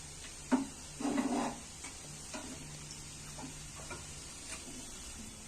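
Spoon stirring garam masala through a spiced egg filling for egg paratha in a hot pan, a couple of louder scraping strokes early on, then faint sizzling and soft ticking clinks.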